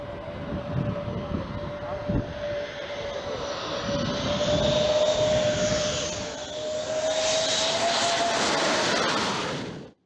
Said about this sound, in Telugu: అగగ్గ రువ్వడిగా ఎగిరొచ్చి అమాంతం రోడ్డు మీద దిగింది విమానం